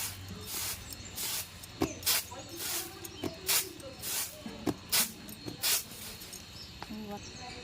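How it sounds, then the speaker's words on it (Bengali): Home-grown rice grains are winnowed by hand in a tray, giving rhythmic bursts of hissing, rattling swishes roughly every half second, close and moderately quiet. "এবার সেই চালটা মা ভালোভাবে ঝেড়ে নিচ্ছে।"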